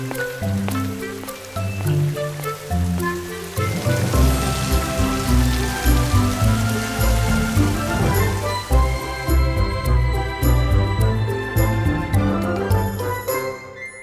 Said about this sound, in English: Look, Nick, it's really coming down out there. It's pouring rain.